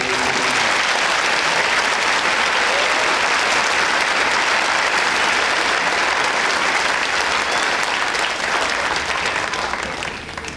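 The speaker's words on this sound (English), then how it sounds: "Ladies and gentlemen, let's give a round of applause to this amazing class." Sustained loud applause fills a high school graduation ceremony for the Class of 2025 at Harvard High School, a thick roar of many hands clapping continuously before tapering off at the very end.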